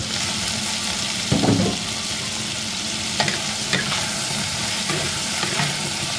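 Chicken feet frying and being stirred in a pan, a loud continuous sizzle punctuated by several scraping and clattering stirring strokes from a utensil against the metal.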